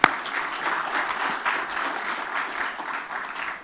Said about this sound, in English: We'll ask you to give a big round of applause